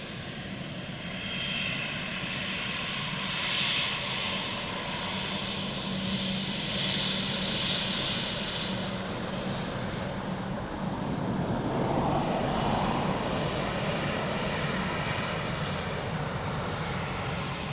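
A Ryanair jet airliner landing on runway 28 left at Dublin Airport, its engine roar heard from a distance with a broad, steady rumble that swells and shifts over the span, accompanied by wind noise.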